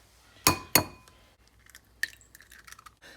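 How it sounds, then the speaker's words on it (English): Eggs are cracked against a bowl, two sharp close knocks, followed by quieter clinks, taps and wet shell sounds as the yolks are separated. "So we're gonna crack our eggs, and then we'll do the egg yolks."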